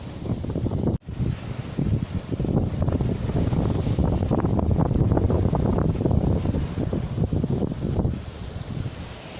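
Strong wind of about 22 knots buffets a sailboat running dead downwind under wind pilot steering off the Norwegian coast, a loud continuous rushing over the microphone with one brief dropout, steady throughout.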